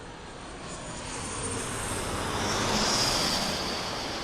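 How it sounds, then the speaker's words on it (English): Loganair Embraer 145 regional jet at Birmingham Airport, its engines a broad steady roar that swells gradually as it passes, heard at a distance with no talking. "I think we've got a Logan Air Embraer 145."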